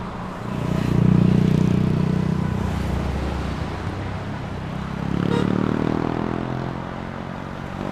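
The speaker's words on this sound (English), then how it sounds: "clear for takeoff 25" A jet airliner takes off at Montego Bay airport, Jamaica, its engines roaring loudly and continuously, swelling twice as the plane powers along the runway.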